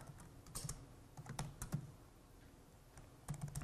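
Code typed on a computer keyboard, with quiet close keystroke clicks in short uneven bursts, a pause in the middle, then another quick flurry, and no talk.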